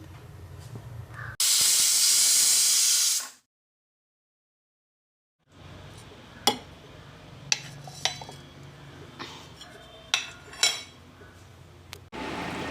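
A pressure cooker hisses loudly with steam for a couple of seconds while taro buttermilk curry cooks, then falls silent, followed by light clinks of pots and utensils in a home kitchen.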